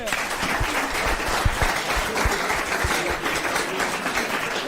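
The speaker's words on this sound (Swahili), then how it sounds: "Makofi mpigie." A group of students in a Kiswahili class at a secondary school claps together in steady, continuous applause, fairly close and even throughout, with a few voices faintly mixed in.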